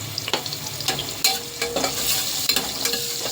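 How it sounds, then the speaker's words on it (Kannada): Onions with turmeric frying in a pan: a continuous soft sizzle with repeated scraping stirs of a utensil at an irregular rhythm, close and alone. "ಈರುಳ್ಳಿ ಎಲ್ಲ ಚೆನ್ನಾಗಿ ಫ್ರೈ ಆಗ್ತದೆ"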